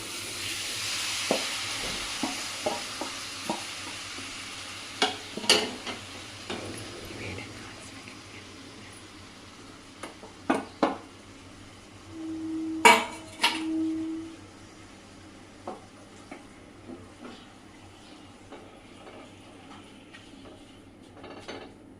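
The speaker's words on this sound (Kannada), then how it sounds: "ಇವಾಗ ಕುಂಬಳಕಾಯಿ ತುರಿದಿಟ್ಕೊಂಡಿರೋದನ್ನೆಲ್ಲ ಹಾಕ್ಕೊಳ್ತಾ ಇದ್ದೀನಿ." Grated pumpkin sizzling in hot ghee, a steady frying hiss broken by scattered clinks and scrapes of a spoon stirring against the pan, with brief talking partway through.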